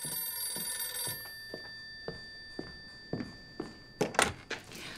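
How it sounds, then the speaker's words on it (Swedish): A telephone rings in a hallway when a call is placed: a bright ringing at the start, then several soft thunks and clicks spaced through the clip, growing busier near the end. "Han ringer till Helga."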